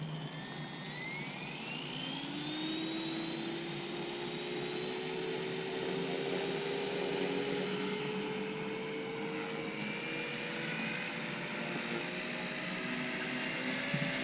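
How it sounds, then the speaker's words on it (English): Fusion 180 Smart RC helicopter on 4-cell power taking off in Stunt 2 mode, its high electric whine rising steadily in pitch as it spools up and then holding a loud, sustained buzz in flight. "time to see what this little helicopter is all about. I'm going to go ahead and take off in Stunt 2."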